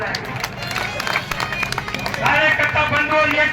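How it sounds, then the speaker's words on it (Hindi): Audience at a political nomination rally clapping in a dense burst of many hands, with crowd murmur and voices mixed in, swelling louder toward the end. "आप सबके इन तालियों के गड़गड़ाहट के साथ"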